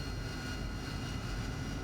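Engine noise from a Harrier jet in the DCS flight game, heard as a steady, dense roar that holds level without clear change.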